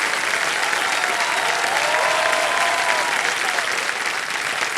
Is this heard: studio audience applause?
yes